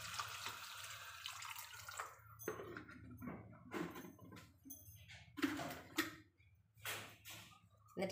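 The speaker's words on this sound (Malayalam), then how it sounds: "നമുക്കിതിലേക്ക് കൂന്തൽ വേവാൻ ആവശ്യമായ വെള്ളം ചേർത്ത് കൊടുക്കാം" Water is poured into a pan of squid roast, giving faint splashing and trickling pours in a few irregular bursts with short pauses between them.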